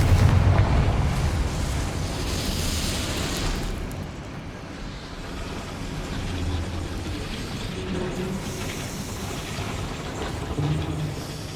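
A Confringo fire spell explodes in Hogwarts Legacy, giving a dense, continuous roar of fiery blasts and rumbling eruptions that holds loud throughout with no break and no voices over it.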